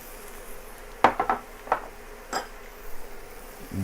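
Crab pieces and curry powder going into a cooking pot for crab curry: a few faint clinks and knocks of shell against metal, with small taps spread over quiet kitchen background.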